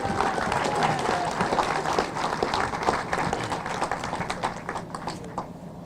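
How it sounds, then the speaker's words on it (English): Crowd applause at the unveiling of a statue of former Mayor James H. Sills Jr., with dense, steady clapping from many hands that holds for several seconds at moderate distance and tapers slightly at the end, without speech. "Let's just give them a round of applause."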